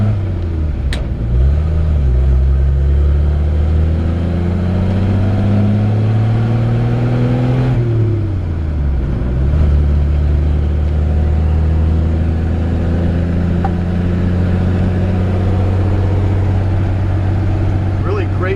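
Engine of a 1954 Chevrolet 3100 five-window pickup truck, still cold, droning steadily up close as it drives, with revs rising and dropping through gear changes, someone talking over it.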